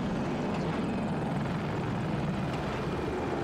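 An attack helicopter in the video game Battlefield 2042 thrums with a loud, steady, broadband rotor and engine roar that holds constant throughout, with no voices.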